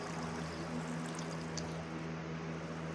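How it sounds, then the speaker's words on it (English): Steady flowing water in Minecraft Bedrock, a soft continuous trickling stream with a low hum beneath, faint and unbroken for a few seconds with no talk. "I'm blocking that flow of water"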